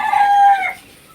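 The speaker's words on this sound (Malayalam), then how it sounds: "ഇത് പൂവനാ പോകുന്നത്" A rooster crows once, loud and close, its drawn-out call fading after less than a second.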